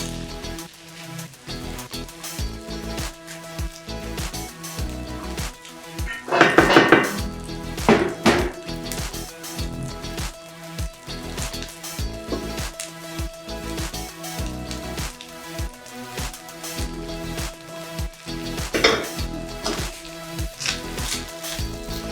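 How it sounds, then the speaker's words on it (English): Vegetable rice is stirred in a pot with repeated scraping and clattering of a spoon against the metal, soft sizzling underneath and a louder burst of knocks partway through; no speech. "Continue mixing until all the ingredients are well spread throughout the rice."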